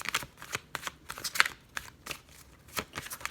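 Tarot cards being shuffled by hand in a series of quick riffling bursts and soft flicks, close and fairly quiet, with no speech.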